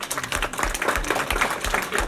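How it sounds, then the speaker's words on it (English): An audience at a 50th anniversary commemoration of the 1968 San Francisco State student strike applauds for Dr. Garrett, dense rapid clapping from many hands filling the room, steady and fairly close. "we want to stop and give Dr. Garrett an applause"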